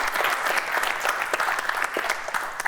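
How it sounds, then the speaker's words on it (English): Studio audience applause on a Nigerian family game show, a short, steady burst of dense clapping from a crowd close by. "Can we give him a round of applause?"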